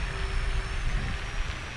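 An E-flite Twin Otter 1.2m RC model plane on floats roars at full power in a steep climb, a steady loud electric motor and propeller drone without pause.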